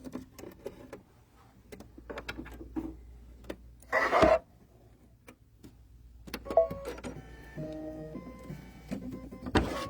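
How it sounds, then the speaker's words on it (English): An embroidery machine stitches swirls onto a coaster with Floriani thread, giving quiet, intermittent mechanical whirring and ticking bursts, one louder buzz midway, close by and without talk. "now we're going to stitch the swirls on the inside of our coaster"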